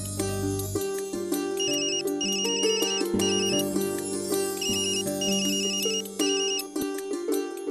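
A mobile phone ringtone plays a bright, repeating melodic tune with steady rhythm, loud and close, with no talk over it.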